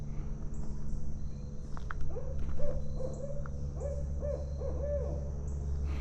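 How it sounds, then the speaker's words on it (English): An owl hoots repeatedly in the woods of Cuyahoga Valley National Park, a series of soft, evenly spaced calls at a middle distance over a steady low outdoor hum, with faint insect sounds and no talk. "there's an owl up there somewhere hooting"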